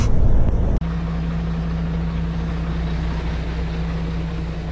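A car travels along the road with a steady, loud engine drone and low rumbling road noise that continues without a break after a brief louder burst at the start.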